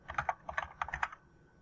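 Typing on a computer keyboard during keyword research for e-commerce marketing: a quick burst of about a dozen close, crisp key clicks over a second, then quiet.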